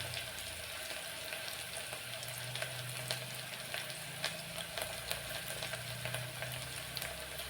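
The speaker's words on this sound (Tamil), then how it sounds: "நல்லா வணங்க விடுங்க வெங்காயம் நல்லா தனித்தனியாக பிரியணும் பிரிஞ்சு நல்லா வணங்கணும்" Onions frying in a pan for a moong dal rice dish, a steady soft sizzle with light crackles, close and unbroken, no voices.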